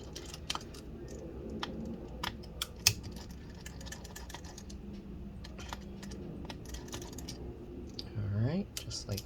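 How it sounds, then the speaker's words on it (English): Small screws being backed out of the underside of a 15-inch Retina MacBook Pro A1398, mid 2017: faint scattered clicks and light metallic ticks close by over low hum, with a brief rising whine near the end. "remove these two screws as well"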